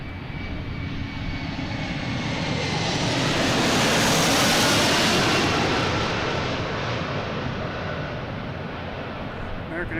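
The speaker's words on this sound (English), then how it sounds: "American Airlines at A321, flight 1552." An American Airlines Airbus A321 jet roars loudly past at Boston Logan, a broad engine rush swelling to a peak midway and easing off, steady and close throughout.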